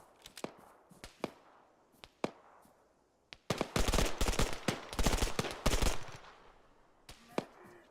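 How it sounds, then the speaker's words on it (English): Gunfire crackles in the Arma 3 Antistasi mod: a few sharp, isolated distant shots, then a dense rapid burst of automatic fire, then scattered single cracks again. "Somebody else is shooting at me over here."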